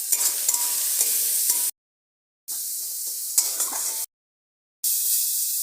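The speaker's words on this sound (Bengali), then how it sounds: "একটু ভাজা ভাজা হচ্ছে, পেঁয়াজের খোসা ছেড়ে গেছে" Onions frying in a pan with garlic, green chilies, salt and turmeric, before mixed greens go in: steady close sizzling with stirring scrapes, in three bursts separated by abrupt silent gaps.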